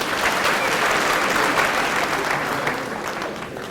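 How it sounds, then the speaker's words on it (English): A room full of people applauds, loud and steady at first, then tapering off slightly toward the end. "So give them a round of applause as well."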